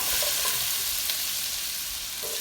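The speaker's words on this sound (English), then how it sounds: "Shallots in the pan. Let's put half of our garlic" Shallots and garlic fry in a pan for chicken piccata, producing a loud, continuous close sizzle with occasional stirring clinks and no voices.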